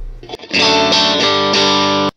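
An electric guitar chord through a Divided by 13 FTR 37 amp rings out loud and warm with a slightly gritty Bassman-style tone, struck twice and left to sustain.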